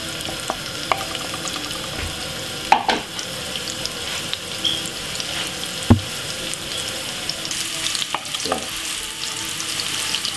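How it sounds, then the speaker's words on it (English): Carrot pieces frying in a hot pan for a Jamaican ackee and vegetable dish, a steady close sizzle with occasional stirring clatters and soft knocks throughout. "fry off the carrot for about roughly about five minutes"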